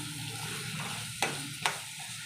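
Tomatoes sizzle steadily in a hot pan with coconut, garam masala, red chilli masala and turmeric, a continuous fizzing hiss broken by two sharp stirring clacks near the end.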